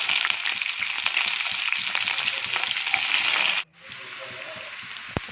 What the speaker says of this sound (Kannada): ಮೆಣಸಿಕಾಯಿ ಹಾಕ್ತಿದ್ದೀನಿ ಈ ಥರ ಮೆಣಸಿನ್ಕಾಯಿ ಸ್ವಲ್ಪ ಫ್ರೈ ಆದಮೇಲೆ ಈರುಳ್ಳಿ